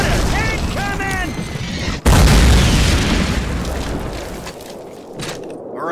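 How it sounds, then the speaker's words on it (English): Mortar shells slam down in a heavy, close explosion in the World War II shooter Call of Duty, a sharp boom followed by a long rumbling decay, with shouted voices and chatter heard before the blast. "Mortars incoming."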